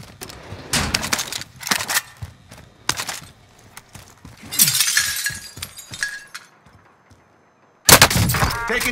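Call of Duty: Modern Warfare gunfire cracks out in sharp scattered shots mixed with glassy shattering and clinking, a short silence, then another loud burst.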